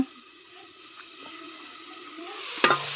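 Potato and bitter gourd stir-fry cooks in a pan with a soft, steady sizzle and faint stirring, then a sharp metallic clink near the end.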